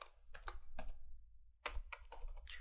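Typing on a computer keyboard of a Windows 11 laptop, a few quick bursts of close, crisp key clicks separated by a short pause, with no voice.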